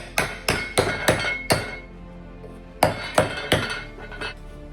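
A steel sabaton plate is hammered on a wooden dishing anvil, with two sets of five sharp ringing metallic blows in steady rhythm separated by a pause, loud and close.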